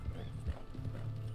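Horse hooves clip-clop at a steady walking pace in the video game Red Dead Online, a faint neigh mixed in, with game ambience and a voice partly over them.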